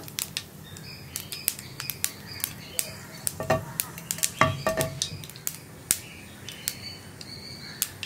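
Curry leaves sizzling and spitting in hot coconut oil with mustard seeds popping, for a tomato-onion chutney to serve with dosa and idli; a steady low sizzle is broken by frequent sharp crackles and pops, a few louder bursts among them, with no talk.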